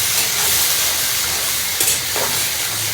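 Garlic and oil sizzle loudly and steadily in a cooking pan, a dense, even hiss that runs the whole time. Brief clinks of stirring cut in near the end.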